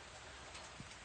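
Steady rain falls outside a workshop, a soft continuous hiss of drops on surfaces with no voices.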